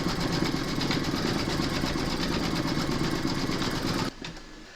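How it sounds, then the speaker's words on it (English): Computerised embroidery machine stitching the darkest side of a moon design on a moon phases table runner, a steady rapid needle rattle running continuously and close, then cutting off abruptly near the end. "you're then going to stitch round number 5, and that's going to stitch the darkest side of your moon"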